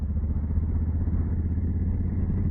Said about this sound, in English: when you just twist that throttle just a little bit, it accelerates quickly